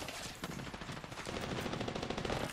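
Rapid automatic gunfire from a video game, continuous dense bursts of shots rattling throughout at a fairly low level.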